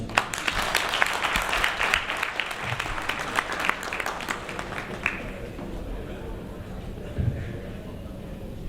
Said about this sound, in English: Let's give a big round of applause for that presentation.